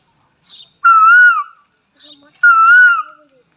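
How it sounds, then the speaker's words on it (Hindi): A koel calls twice nearby, each call a loud, clear, tonal whistle with a bending pitch, preceded by a fainter softer note, separated by about a second of silence. "ये कोयल आवाज है"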